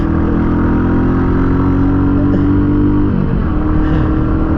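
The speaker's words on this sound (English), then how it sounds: "this bike does feel quick, a lot quicker than the older generation classic 350" A 2021 Royal Enfield Classic 350 BS6 motorcycle engine accelerating, a loud steady single-cylinder drone heard up close that climbs in pitch, drops at a gear change and then climbs again, with no voices.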